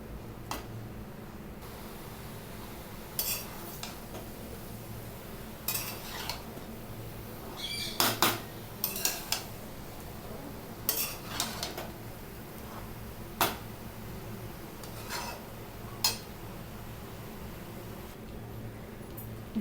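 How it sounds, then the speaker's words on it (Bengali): Vegetables for katla fish chorchori, including ridge gourd and brinjal, are stirred and mixed in a pan with a utensil, giving scattered sharp clinks and scrapes at an irregular pace over a quiet background. "দিয়ে এবারে ভালো করে মিশিয়ে নিতে হবে সব সবজিগুলোকে একসাথে"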